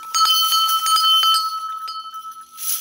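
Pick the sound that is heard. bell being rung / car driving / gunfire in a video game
bell being rung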